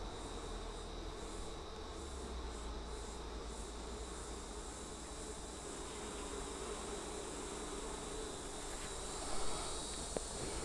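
A colony of honey bees hums steadily as a naturally drawn brood frame is lifted from the hive with a J tool, a dense continuous buzz close by that barely changes over the whole stretch.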